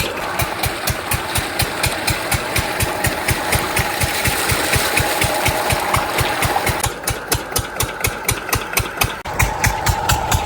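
An engine runs steadily at close range, a loud, even chugging beat with rapid regular pulses throughout, and no voices.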